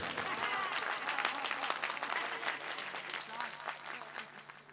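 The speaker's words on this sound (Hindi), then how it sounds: "अगर इन कैमरे वालों ने ताली बजा दी" Audience applause fills a live Urdu poetry mushaira in Champara, steady dense clapping from a crowd throughout, fairly loud and sustained with a faint hum underneath.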